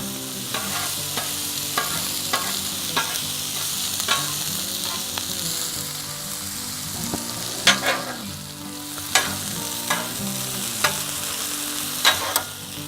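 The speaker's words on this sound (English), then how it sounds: "These peppers and onions, I love cooking peppers and onions on this thing." Peppers and onions sizzle steadily on a Blackstone griddle over low heat, a continuous crackling fry broken by periodic scraping strokes of a spatula.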